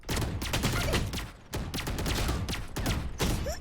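Dense, rapid gunfire from a Vandal rifle in a video game, loud and continuous with sharp repeated reports and brief pauses, and no talking.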